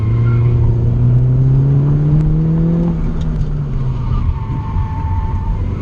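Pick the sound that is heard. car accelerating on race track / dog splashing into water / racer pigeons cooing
car accelerating on race track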